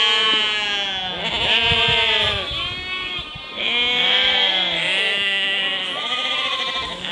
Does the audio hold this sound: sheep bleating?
yes